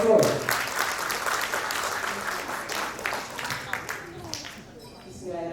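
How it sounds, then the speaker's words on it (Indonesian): Applause from the audience at a professional organisation congress, a burst of many hands clapping that swells at first, then thins out and fades, with voices talking over it near the end. "Kasih aplaus."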